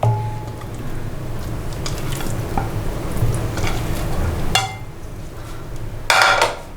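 One kilogram of chicken legs hit a hot pan and fry with a steady sizzle, broken by wet squishing, utensil clatter against the pan and a bright metallic clang near the end.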